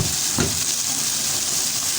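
Peas and carrots cooking in a pan while being stirred, a loud, steady hiss of frying broken by soft scraping movements.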